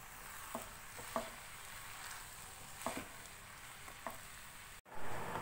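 Boiled noodles tossed with vegetables in a pan, a faint steady frying hiss with a few light stirring scrapes, quiet and close, ending in a brief cut.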